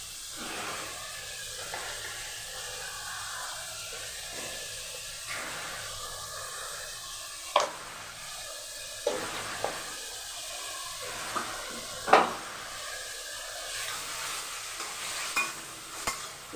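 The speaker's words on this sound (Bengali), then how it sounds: "খুব ভালো করে লাল লাল করে পেঁয়াজটা ভেজে নিতে হবে।" Onions fry in a pan for masala chicken, with a continuous soft sizzle under repeated stirring and occasional sharp clicks of a spatula against the pan, with no voices.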